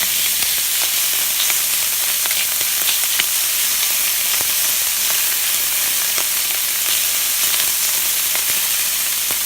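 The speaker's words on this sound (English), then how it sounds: "Just add all that in there. Get that sauteing up a little bit." Breakfast burrito filling sautés in a hot pan on a low carb, keto stovetop, giving a continuous bright sizzle with small crackles and pops throughout, no voices over it.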